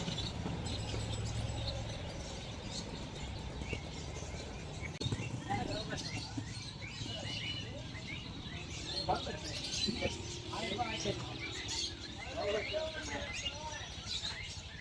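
Small caged birds chirp and tweet in quick bursts at a busy Kolathur pet market, where love birds are sold, heard through steady crowd chatter and market noise.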